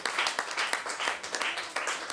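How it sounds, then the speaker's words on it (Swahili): A church congregation claps for Jesus Christ during a Swahili worship service with Apostle Kimei Chanika, with bursts of applause coming in uneven waves across the whole moment. "Pigia Yesu Kristo makofi yako mbele."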